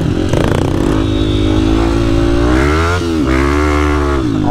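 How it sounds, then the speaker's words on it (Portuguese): A motorcycle engine labours loudly and close up on a heavy mud trail, a steady growling drone that rises and dips in pitch as the throttle shifts. "A moto vai pra um lado e vai pro outro."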